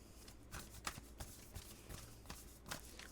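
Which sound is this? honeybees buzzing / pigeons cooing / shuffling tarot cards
shuffling tarot cards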